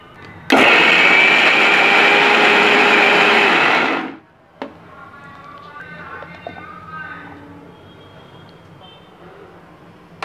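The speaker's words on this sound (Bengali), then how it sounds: "তো এই পেঁয়াজটাকে আমি পুরো পেস্ট না করে অল্প একটু ক্র্যাশ করে নেব।" An electric grinder crushes onion with salt, cumin, pepper, coriander and turmeric powder in a loud, steady whir for about three and a half seconds before cutting off, followed by quiet kitchen sounds and faint talk.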